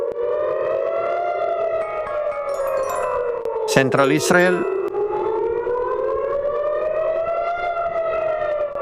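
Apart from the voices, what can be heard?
air raid sirens in central Israel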